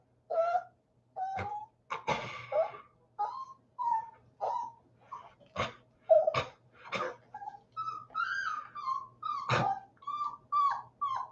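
A six-week-old puppy whimpers and yelps in short, high, repeated cries, about a dozen spaced bursts, close and fairly soft in a quiet room.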